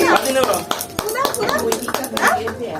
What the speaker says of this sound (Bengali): সবাই হাততালি দাও, সবাই হাততালি দাও, হাততালি হাততালি হাততালি